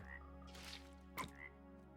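Minecraft frog croaking, spawned from an old tadpole that turns straight into a frog; a few short croaks, fairly close, over a steady low game background hum with no talk.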